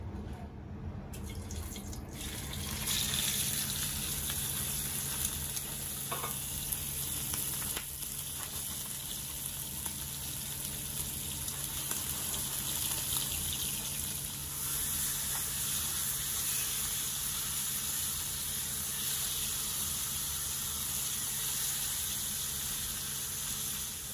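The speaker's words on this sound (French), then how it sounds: "Il faut que la poêle soit bien chaude. Il faut que le rognon soit bien saisi," Veal kidney sears in a very hot pan, making a loud, steady sizzle and crackle that runs without a break from start to end.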